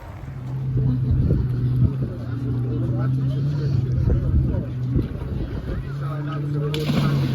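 Steady motorboat engine drone as a boat approaches a lagoon off Tenerife, a continuous low hum with wind and water noise, while voices talk over it intermittently.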